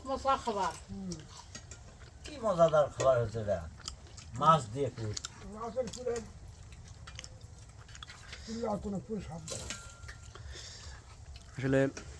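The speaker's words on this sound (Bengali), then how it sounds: "আমি অল্প অল্প করে একটা কামড় দিচ্ছি আর খাচ্ছি" Crispy fish puri pitha is bitten off in small pieces and chewed, soft crunches and mouth noises that come and go beneath a person talking.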